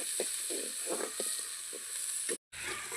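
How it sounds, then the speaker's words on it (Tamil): A large chopped onion sizzles and fries in hot oil for South Indian puli kulambu, a steady close hiss broken by soft stirring scrapes, with a brief cut to silence near the end. "நெக்ஸ்ட்டு ஒரு பெரிய வெங்காயம், அதை நிறக்கி வச்சுருக்கோம், அதை போட்டு இப்போ வதக்கிடலாம்"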